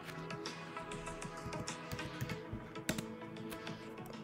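Fingers tap on a computer keyboard in a quick, irregular stream of close, crisp clicks over a faint steady hum, with no one speaking.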